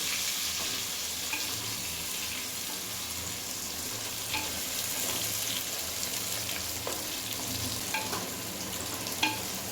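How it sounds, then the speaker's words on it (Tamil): Brinjal slowly sautéing in oil for oil brinjal kulambu, a steady soft sizzle with occasional scraping stirs and light clicks, close and fairly quiet, no talking. "அப்படியே மெதுவாக எண்ணெயில் வதக்கி எடுத்துக்கலாம்."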